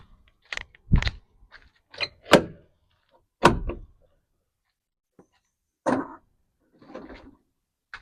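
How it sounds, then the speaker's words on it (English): Left door on a 2026 WTB Trucks 2000REV electric trash can cleaning truck being opened: a series of separate close clunks, latch clicks and thuds with quiet gaps between them and no talking. "Let's see the left door on this truck."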